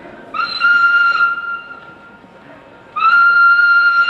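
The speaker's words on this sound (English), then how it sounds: "Mrs. Hubbard, the whistle means the help is near." A train's steam whistle sounds in a film set aboard the Orient Express, two loud sustained blasts each lasting about a second, separated by a quieter pause with background rumble.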